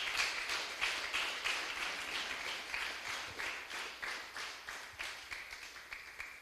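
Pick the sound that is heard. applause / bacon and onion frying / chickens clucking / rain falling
applause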